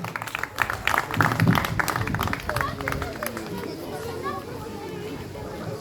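Award-ceremony crowd at a French koi show applauding a prize winner, a burst of clapping and cheers that swells early then settles into a steady background hubbub of chatter and movement.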